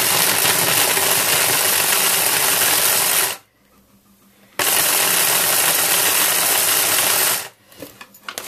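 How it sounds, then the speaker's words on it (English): A hand blender attachment blending dates, a loud, close, steady whirring motor grind that runs in two bursts with a silent pause between them, then stops with some clatter at the end. "This is actually a hand blender attachment that I bought"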